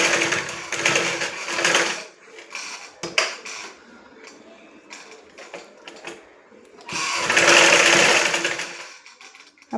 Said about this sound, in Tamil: அப்படியே மடித்து வச்சு தைக்க வேண்டியது.